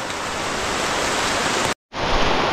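Dense, steady hiss of rain falling on a muddy enduro trail in Calvario, continuous and fairly loud, cut by a brief dropout before resuming at the same level, with no voices.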